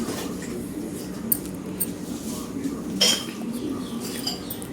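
Dishes, pots and utensils washed by hand in a village home, with scattered light clinks and knocks over steady background noise and a bird cooing somewhere in the distance.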